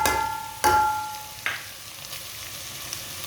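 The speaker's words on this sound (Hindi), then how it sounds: "लहसुन को भी 2 मिनट के लिए पका लेंगे" Crushed garlic fries with lightly browned onions in a pan for a Punjabi-style chicken and turnip dish, a steady close sizzle with a few sharp stirring clinks and no talking.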